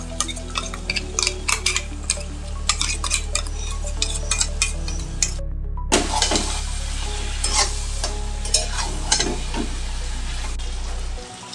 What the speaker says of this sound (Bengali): 5 মিনিটের মতন কষিয়ে নিয়ে এবার আদা রসুন বাটাটা দিয়ে দিচ্ছি।